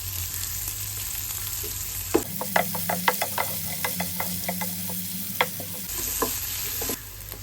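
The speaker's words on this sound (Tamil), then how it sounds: "ஆனியன் வதங்கிறதுக்கு சீக்கிரம் வதங்கிறதுக்கு நம்ம கொஞ்சம் சால்ட் போட்டுக்கலாம்." Onions fry in a pan with salt, giving a steady close sizzle broken by a run of sharp spoon clicks and scrapes as they are stirred.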